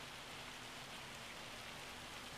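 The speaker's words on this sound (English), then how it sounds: "Oh, it's raining." Video-game rain falls on a farm in a steady, even hiss with no pauses, faint and continuous and free of talk.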